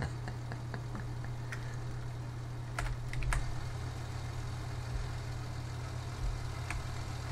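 A large tractor idles in Farming Simulator 19 with a quiet, steady low hum that runs throughout, while faint keyboard clicks tap over it.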